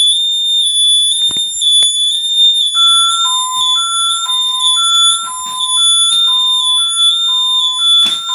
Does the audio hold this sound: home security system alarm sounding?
yes